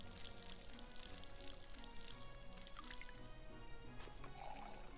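Watering can pouring water over crops in the Rune Factory 4 farming game, a steady liquid trickle and splash running through the whole stretch over soft game music, with a brief chime near the end.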